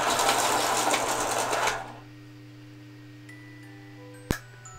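A pencil sharpener whirs loudly and steadily for under two seconds, then cuts off, leaving a faint hum and one sharp click.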